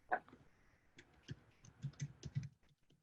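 Keys on a computer keyboard clatter in short irregular bursts, a few isolated taps then a quicker run of clicks, fairly quiet and close.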